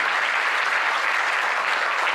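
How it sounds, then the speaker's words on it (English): Applause from a conference audience at the close of a panel discussion, a dense, even wash of clapping that holds steady throughout the short stretch. "can we have a big round of applause for it?"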